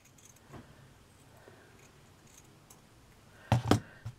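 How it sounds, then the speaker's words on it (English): Scissors cutting felt fabric for shabby chic flowers: a quiet stretch with faint handling noise, then two or three sharp, close snips in quick succession near the end. "See how I'm keeping the scissors straight but turning the fabric."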